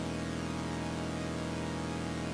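A synthesized sawtooth-wave chord from SuperCollider drones steadily, bright and buzzy at a constant loudness, alone with no speech.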